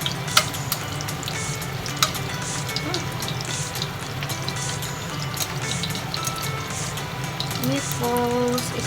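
Meatballs sizzle and fry in a nearly dry pan over medium heat for a Japanese-style teriyaki dish, a steady crackle with occasional clinks and stirring, and voices faintly underneath.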